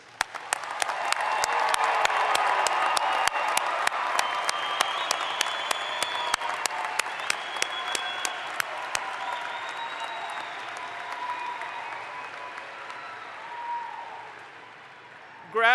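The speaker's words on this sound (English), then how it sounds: "Audience, please join me once more in applauding all of our graduates." Audience at a university spring commencement ceremony applauding the graduates, broad hall clapping that builds quickly, holds steady, then gradually thins out, with a few sharper individual claps throughout.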